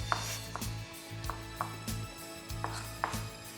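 Knife chopping onion on a cutting board for pico de gallo, about eight sharp, evenly spaced chops over a steady low background hum, close and clear with no talking.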